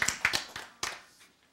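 Several quick claps ring out and fade in a hall during a Korean church Bible-and-science lecture, a short burst that tails off into quiet.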